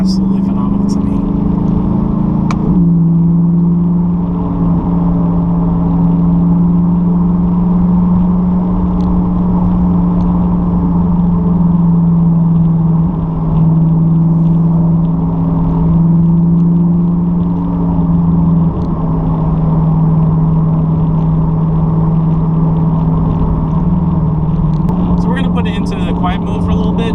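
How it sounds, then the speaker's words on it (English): A C8 Corvette with a Borla ATAK exhaust, valves closed, drones loudly through gear changes, a steady deep engine tone that shifts pitch at a couple of points, with someone talking throughout. "go through the different gears to see how it sounds with the valves closed"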